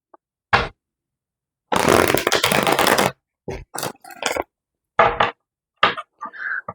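Tarot cards are shuffled in several brisk bursts, a long riffling stretch followed by shorter snaps and flutters with silence between.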